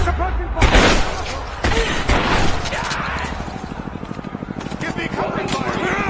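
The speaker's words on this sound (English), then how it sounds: "Give me suppressing fire!" Gunfire in a village battle in Rise of the Tomb Raider comes as heavy bursts and booms, with a rapid rattling stretch later, all under shouted voices.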